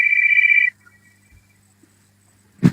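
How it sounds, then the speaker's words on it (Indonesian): A telephone rings once in a short electronic burst, then falls silent, followed by a faint thud and a brief soft knock at the end, close and clear with no talking. "Hindari dulu bunyi-bunyi telepon di mana itu."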